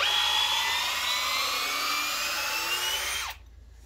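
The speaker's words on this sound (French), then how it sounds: "Maintenant, on va faire un petit test de perçage ici." A Bosch GSR 18V-150 C cordless drill runs steadily through a drilling test, a loud, close, high whine that holds for about three seconds and then cuts off abruptly into near silence.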